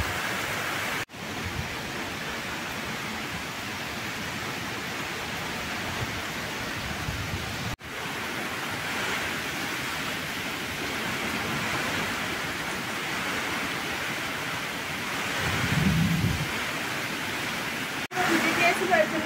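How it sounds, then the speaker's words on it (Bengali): Storm wind and heavy rain from Cyclone Remal roar as a steady broadband wash throughout, with gusty surges and a few abrupt breaks, heard from indoors. "বাইরে তো ঝড় বৃষ্টির আওয়াজ"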